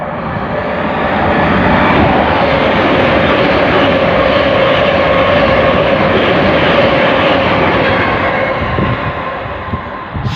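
A Thameslink Class 700 Stormtrooper electric train running from Bedford to Brighton races past at Hendon on the Midland Main Line, a loud roaring rush that swells, holds steady, then eases slightly as it goes by.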